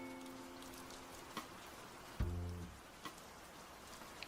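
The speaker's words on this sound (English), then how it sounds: "I've just been hearing rain for like God knows how long" Rain from a playlist, a soft steady patter under faint tonal hum, with a few isolated louder taps and a short low thud midway.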